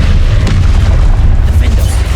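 A deep booming explosion from the Confringo spell in the Hogwarts Legacy video game, loud and sustained with rumbling low end throughout.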